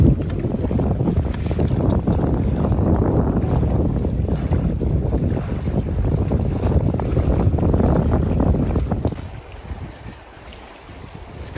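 Strong wind buffets the microphone at a wilderness campsite in Temagami in a loud, continuous roar that eases near the end.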